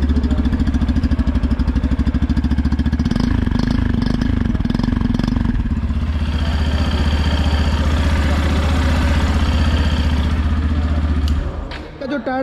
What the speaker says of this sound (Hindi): बाइक स्टार्ट करके मैं आपको इंजन साउंड सुना देता हूँ।